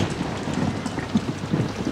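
Steady rain pours down with a low rolling rumble of thunder underneath, loud and continuous, in the video game Outlast.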